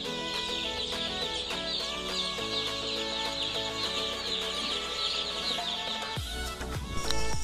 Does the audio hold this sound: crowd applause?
no